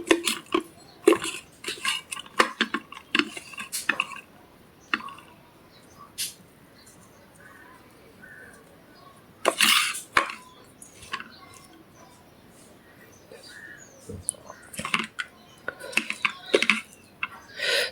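Potato bharit being mixed with broken bhakri pieces in a pan, irregular scraping, clinking and tapping of utensil against metal, with pauses and brief speech between bursts.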